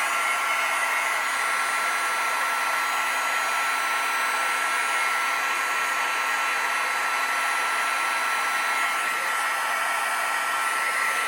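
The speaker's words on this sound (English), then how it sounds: "Now I want to bring in my heat gun, and then we're going to melt all of these." A heat gun blows steadily to melt embossing powder on a cardmaking project, a constant loud whooshing roar that stays even from start to finish, close by with no one speaking.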